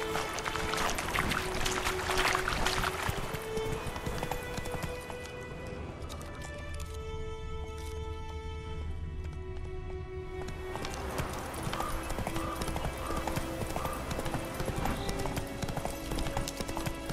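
Horse Roach in The Witcher 3 clip-clopping in a steady galloping hoofbeat rhythm that runs throughout, close and loud, with game music and ambience underneath and a brief slowdown in the middle.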